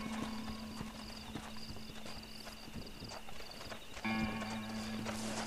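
A horse in the Red Dead Redemption video game clip-clops along in a steady walking rhythm, hooves close and moderately loud over a low, continuous tonal ambience, with no talking.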